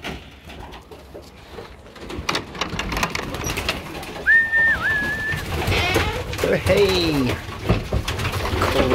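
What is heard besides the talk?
pigeons cooing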